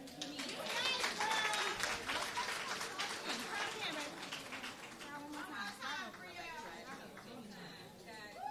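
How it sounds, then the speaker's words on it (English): An audience applauds after a student's speech at the 41st Dr. Martin Luther King Jr. oratorical contest. A dense burst of clapping peaks early and then thins, with voices and chatter rising over the fading applause. "Let's give Brielle another round of applause, guys."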